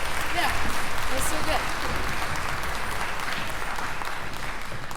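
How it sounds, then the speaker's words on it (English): Steady audience clapping fills the hall at an All Area Band school concert, a dense, continuous wash of applause holding at even loudness for the whole stretch with some voices mixed in. "Yes, please clap."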